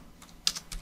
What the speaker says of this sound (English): I just click and I can start typing.